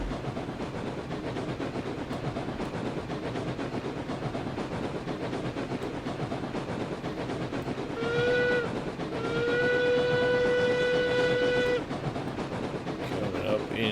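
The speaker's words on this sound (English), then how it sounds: "We're in train chugging territory now" A steam train in the RailRoads Online video game chugs along with a steady rolling rumble, then sounds its whistle in two loud blasts, a short one followed by a longer one.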